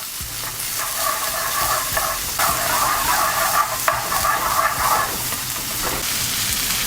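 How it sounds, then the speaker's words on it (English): Mixed peppers and onions sautéing in a pan, a bright continuous sizzle with stirring bursts and scraping, close and steady without talk. "You want to lightly saute those peppers and onions."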